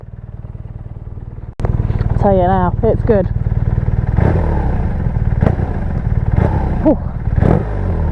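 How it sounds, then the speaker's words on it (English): A BMW R nineT with its 1170 cc twin boxer engine and Akrapovic slip-on exhaust idles steadily and loudly up close, with throttle blips and revs over a deep rumble while someone talks over it. "Let's see what that 1170 twin boxer engine sounds like with this Acra slip on as well."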